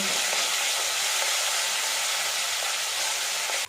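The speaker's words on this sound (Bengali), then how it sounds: "একটু নাড়াচাড়া করে ভাজা ভাজা করে নেব" Peanut paste fries with nigella seeds in hot oil, a steady close sizzle with light stirring scrapes throughout, ending abruptly.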